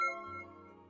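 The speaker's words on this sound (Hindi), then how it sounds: "लेकिन तभी रिया का फोन बजा" A mobile phone rings once: a short, bright electronic tone with ringing overtones that sounds at the start and then fades away within a second, heard alone.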